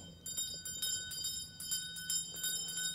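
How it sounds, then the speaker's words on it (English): Many bells throughout a house ringing out loudly together, a dense continuous clangor with rhythmic rapid strikes throughout, close and bright with no voices. "Soon it rang out loudly. So did every other bell in the house."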